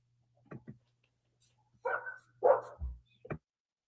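A dog barks a few times, short sharp woofs spaced out over a few seconds and heard fairly clearly against an otherwise quiet background.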